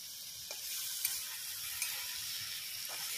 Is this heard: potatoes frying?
yes